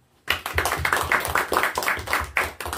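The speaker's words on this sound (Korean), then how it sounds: "박수요." A church congregation claps together during a Sunday worship service. The claps come as a burst of loud, closely spaced, roughly rhythmic hand claps that starts abruptly after a brief silence and continues throughout, with no talking.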